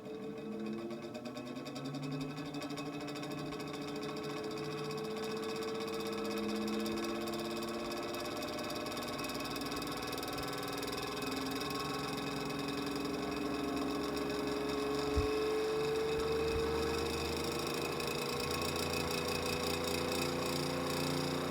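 A small Vornado Jr fan motor runs steadily after reassembly in its housing, a continuous mechanical hum with a faint whine that rises slightly in pitch, plus a brief knock partway through.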